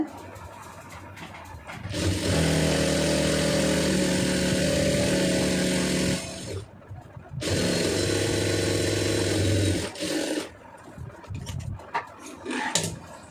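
Sewing machine stitching fabric a quarter inch from the edge while sewing a blouse cup and neckline, running in two long, close, steady motor bursts with a brief stop between them and a few short starts at the end.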